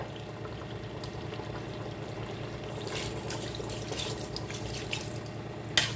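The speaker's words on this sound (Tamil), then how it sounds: "இப்போ தண்ணி ஊற்றி வேக வைக்க போகிறோம் கறியை" Water runs steadily from a tap into a cooking pot of mutton biryani, a constant close gushing that grows slightly brighter toward the end, with no talking.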